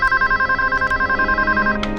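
A telephone rings with a steady, fast electronic trill, loud and close, running continuously without any voices over it.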